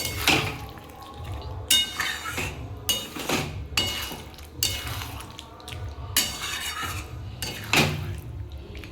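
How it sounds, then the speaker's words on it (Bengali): Mutton cooking with spices in a pot is stirred and fried, with repeated metallic clanks and scrapes of a spoon against the pot about every second over a low sizzle, close and fairly loud. "সব দিয়ে ভালো করে একটু কষাবো"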